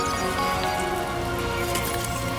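Rain pouring down in the video game Death Stranding 2, a dense, steady hiss of drops on surfaces with a faint low rumble beneath, constant and fairly loud with no talk.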